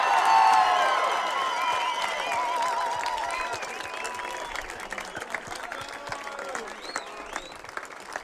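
A crowd at a state championship basketball parade for the Clarkston Wolves claps and cheers. High whoops come early, then dense applause thins into scattered claps, with some voices mixed in.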